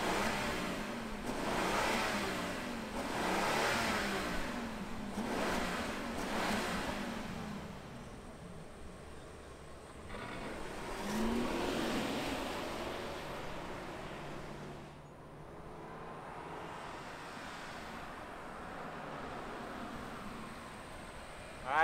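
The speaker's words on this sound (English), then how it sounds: "let's go ahead and fire it up and hear this bright tangerine orange Rolls-Royce" A bright orange 2022 Rolls-Royce Cullinan with a V12 engine turns over and settles into a smooth idle, with several swelling revs early on before the engine hum steadies at moderate loudness, heard without talk.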